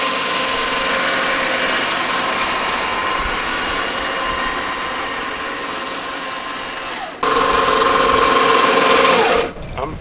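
A manual reel mower cutting grass, making a steady close whirring, clattering buzz of spinning blades; after a brief break the buzz resumes louder with a sustained tone before trailing off.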